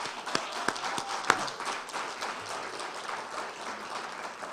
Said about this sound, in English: Let's give Lobus an applause